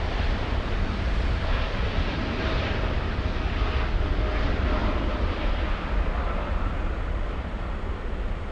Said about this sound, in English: We have the KLM on takeoff, flying to Amsterdam